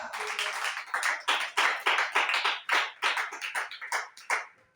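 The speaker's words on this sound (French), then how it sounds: "Applaudis pour le Seigneur." A church congregation clapping in a steady rhythmic beat, bursts of hand claps at roughly regular intervals, close and clear with no talking over it.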